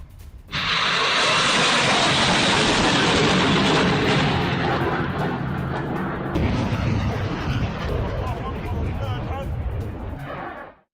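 Roar of an M90 rocket launched by Hamas, a sustained loud rushing blast that holds steady for about ten seconds before fading out.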